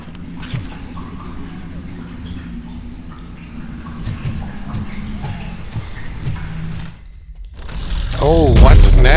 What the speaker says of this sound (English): It's a turret!